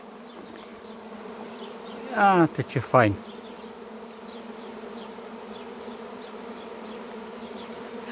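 A honeybee swarm flying into a hive box makes a steady, low insect hum throughout, while a person speaks briefly in the middle.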